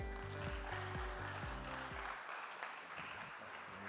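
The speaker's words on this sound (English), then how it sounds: "Let's give our panelists a big round of applause." Audience applause for panelists at a conference panel on 5G, a brief round of clapping over closing music that fades, leaving the clapping to trail off.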